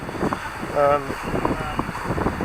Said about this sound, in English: That wind is still pretty high